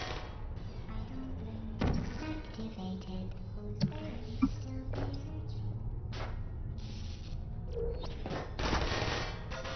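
A turret firing at the player in the game Portal: rapid bursts of gunfire, with sharp shots and clatter scattered over a steady low background.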